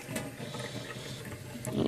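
Water running into a bottle for home-brew beer, a continuous soft splashing and gurgling flow, close and fairly quiet, with no talking.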